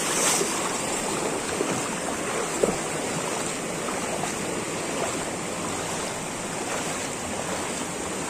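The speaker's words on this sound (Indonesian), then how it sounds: "Karena aliran sungainya cukup besar, cuman airnya nggak terlalu dalam, hanya lebar saja ya." A wide, shallow river tumbles over big rocks at Sungai Bangek, a close, constant rushing wash with faint splashes and a couple of small knocks, no voices.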